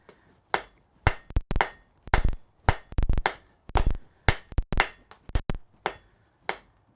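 A hammer strikes flat bar on an anvil in a smithy, with sharp, ringing metallic blows close by, some single and some in quick pairs, all spaced irregularly.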